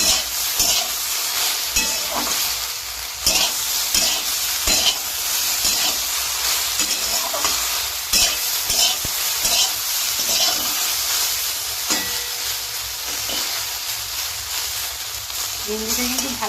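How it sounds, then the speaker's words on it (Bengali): Fresh okra frying in a pan with salt, a steady loud sizzle broken by repeated scraping stirs throughout, close up, with faint talk at times. "লবণ দেওয়ার পরে ভালো করে ভেজে নেবো"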